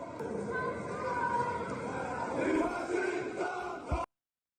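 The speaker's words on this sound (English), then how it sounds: "Russians are applauding and screaming when they see the Chinese soldiers." A large Russian crowd in Moscow cheers and shouts at Chinese soldiers marching past, a dense continuous roar of many voices with possible clapping mixed in, fairly loud and sustained before cutting off abruptly.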